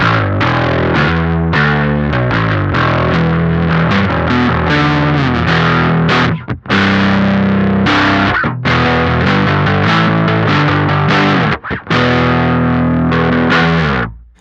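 Electric guitar through an O.C.E. Lineman overdrive pedal set to a middle presence setting, playing loud, continuous distorted riffs and held chords broken by two brief pauses.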